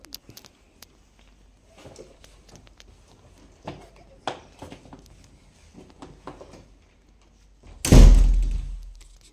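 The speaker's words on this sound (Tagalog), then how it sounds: "Sara ko lang pinto." A home's door is shut with a sharp, loud slam near the end, after a stretch of quieter footsteps, rustling and faint indoor movement.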